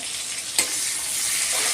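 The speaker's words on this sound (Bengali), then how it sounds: "মা কড়াই তেলের ওপর পেঁয়াজ ছেড়ে দিল, পেঁয়াজ আর কাঁচা লঙ্কা" Onion and green chilli hiss as they fry in hot oil in a wok, giving a steady close sizzle with one sharp crackle near the start and no voices.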